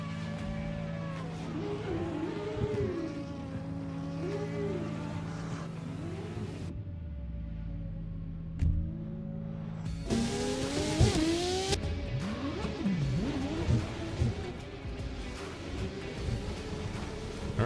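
Drift cars lapping Road Atlanta during qualifying roar past with revving engines and squealing tires, the noise swelling and fading as cars come and go.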